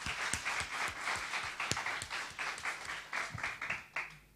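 A church congregation claps in praise during a testimony, a dense crowd applause with sharp individual claps standing out, moderately loud and steady throughout.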